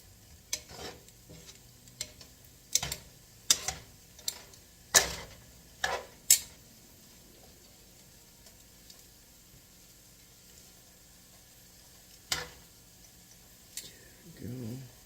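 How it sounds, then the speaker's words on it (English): Garlic and noodles frying in a pan while a utensil stirs them, giving a run of sharp scraping clacks, then a quiet stretch and a few more knocks over a faint sizzle. "let's get that garlic back into the noodles instead of up on the sides"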